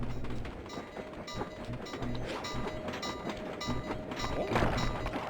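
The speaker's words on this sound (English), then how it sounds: "Oh, there's a train." A train rolls past in the video game Sly 2: Band of Thieves, with a rumbling run and rhythmic clickety-clack of wheels building slightly toward the end, fairly faint and without speech.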